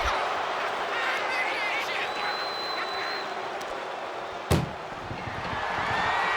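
In WWE 2K25, an ambulance door is forced during an Ambulance Match: a single heavy metallic slam strikes partway through, over a constant roaring arena crowd.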